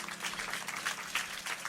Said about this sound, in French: On applaudit mon Dieu ensemble.